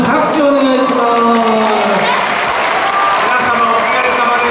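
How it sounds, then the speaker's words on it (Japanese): A crowd at the Roppongi Hills Bon Odori festival in Tokyo claps continuously while a voice carries over the applause, fairly loud and close. "拍手お願いします"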